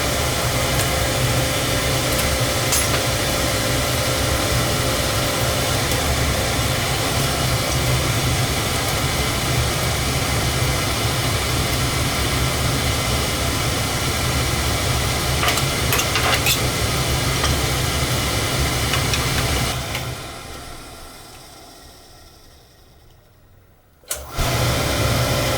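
An oil burner on a home heating and hot water system runs after service with a new nozzle and cleaned burner head, giving a steady loud roar. It cuts off and fades near the end, followed by a brief thump.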